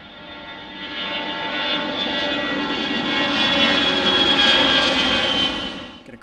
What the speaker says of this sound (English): Got another departure. It's like an Airbus